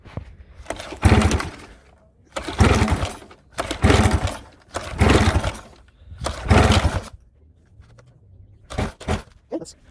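A racing kart's gasoline engine running without a muffler, loud raw bursts of revving that rise and fall in repeated surges with short idle gaps between, close to the listener.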